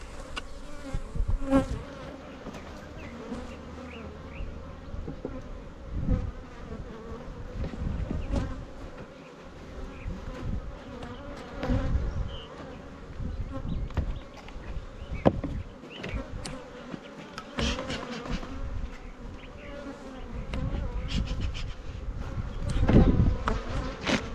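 Honey bees buzz steadily around a weak nuc hive in an outdoor bee yard, a dense close hum with insects passing near and away, no talking.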